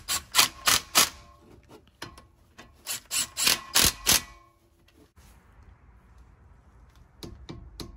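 Torque wrench ratcheting on Toyota Camry front brake caliper bolts, sharp clicking bursts in quick clusters, close and clear, followed by quieter scattered clicks with no talk.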